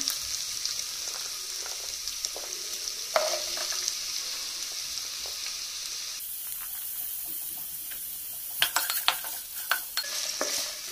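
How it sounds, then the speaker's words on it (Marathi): Chopped carrots fry in a pot for vegetable pulao while being stirred, a continuous sizzle broken by repeated scraping and clinking stirs, louder clusters near the end. "बरे करून स्टर करून घेऊया."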